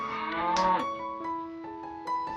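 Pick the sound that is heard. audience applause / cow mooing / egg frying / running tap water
cow mooing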